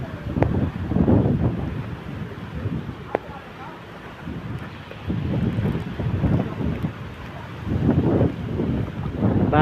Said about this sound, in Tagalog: Lakas ng hangin oh. Umuugong. Ayan ang mga hangin.